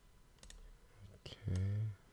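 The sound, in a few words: pressing the spacebar on a computer keyboard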